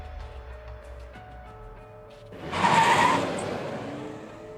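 A car in a fan-dubbed scene accelerates and skids, a sudden loud hissing rush of tire noise that swells and then fades into a lingering rumble.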